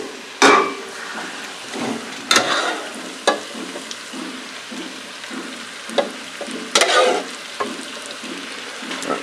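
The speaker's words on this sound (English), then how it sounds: "let's give that a stir" Sauce stirred in a pan of stuffed peppers and noodles, with several sharp scraping and clanking strokes of a utensil against the pan over a quiet background, no talk.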